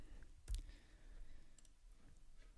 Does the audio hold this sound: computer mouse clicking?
yes